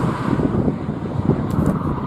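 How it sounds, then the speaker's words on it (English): Strong wind buffeting the microphone on a hilltop at Craigantlet, County Down, a continuous low roaring rumble with gusty swells, loud and close. "It's very, very windy up here."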